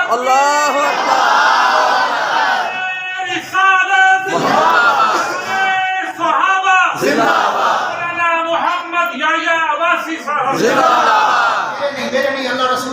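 A large crowd chants religious slogans in unison with a loud leader, the call-and-response shouts rising and falling in repeated rhythmic waves throughout.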